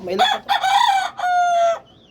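A white fighting cock crows close by, a single loud cock-a-doodle-doo in several rising and falling segments ending in a long held note, with a faint chirp after.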